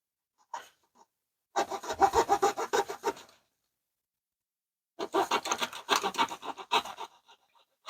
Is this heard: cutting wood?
yes